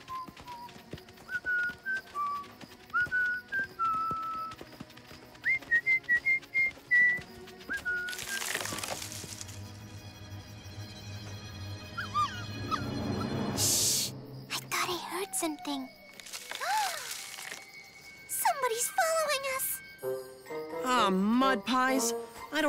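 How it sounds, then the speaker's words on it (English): In a cartoon, a melodic whistled tune plays first, then gives way to voices, rustling movement and assorted effects. "I don't hear the whistling anymore."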